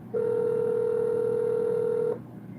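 A telephone placing a call that goes unanswered, a single steady electronic tone lasting about two seconds, loud and clear on its own before cutting off to quiet.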